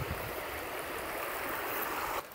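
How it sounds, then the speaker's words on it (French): A small river flowing in hot summer weather, a steady broadband rush of running water heard close and continuous, cutting off abruptly near the end. "on allait aller proche d'une petite rivière comme ici"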